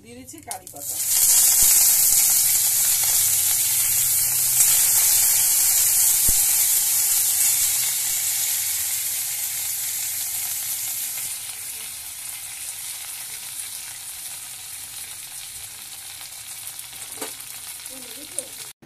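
Curry leaves hit hot oil with fried mustard seeds and erupt into a loud, bright sizzle that settles into a steady hiss, softening gradually. There is occasional stirring clatter.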